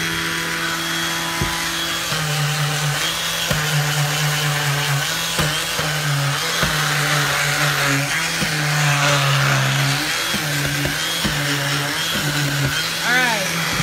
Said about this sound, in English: This is my sander. It's 80 grit sandpaper.